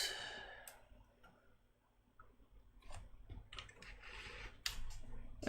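Typing on an Amiga computer keyboard, a faint, irregular patter of soft key clicks in a quiet room, with one louder click near the end.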